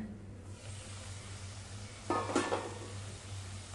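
A lid comes off a pan of cooking bitter gourd with one brief metallic clatter midway, set against a steady low kitchen hum.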